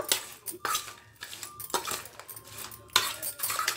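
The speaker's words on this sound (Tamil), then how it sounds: "நம்ம அதை கலக்கும் போதே நல்லா வந்து கிறிஸ்பி சவுண்ட் கேட்குது" Crispy fried corn being mixed in a bowl, heard up close as repeated bursts of clinking and crunchy scraping in an uneven rhythm, without speech.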